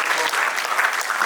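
A crowd applauding at a trading summit, a dense and loud burst of many hands clapping with no pauses in the brief stretch.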